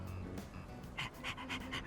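A stray dog in Persona 3 Reload pants in quick, steady breaths, close and clear, with a few sharper huffs toward the end.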